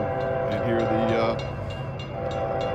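A train passing a railroad crossing in Coffee County, its horn blowing in a steady sustained tone over the rumble of rail cars, with a person talking faintly beneath.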